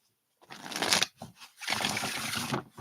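Tarot cards are shuffled close by in two long riffling passes, a soft papery flutter broken by a short pause, with no voice.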